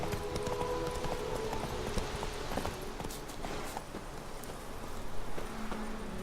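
Steady clip-clop of horse hooves at a walking pace in the video game The Witcher 3: Wild Hunt, fairly close, with a faint background music bed and occasional clicks.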